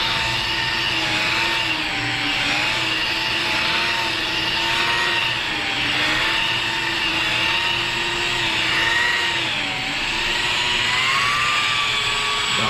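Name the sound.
rotary polisher with 3M polishing pad at about 1,000 RPM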